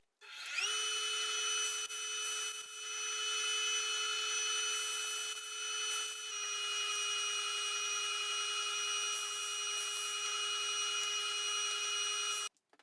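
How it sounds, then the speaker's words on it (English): A power drill bores pocket holes in wood for nightstand stretchers, a steady high whining motor run lasting about twelve seconds with slight pitch dips and a brief stop near the end. "Let's drill these pocket holes out for all the stretchers."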